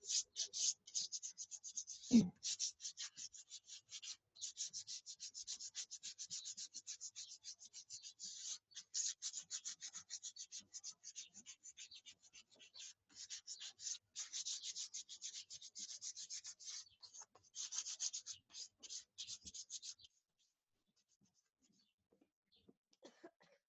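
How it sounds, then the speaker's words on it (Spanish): Sandpaper rubs over the carved wood of a chair to distress chalk paint: quick, close, scratchy strokes repeat steadily for about twenty seconds. A single cough breaks in early on, and the rubbing stops near the end. "vamos a desgastar en la parte donde está el tallado"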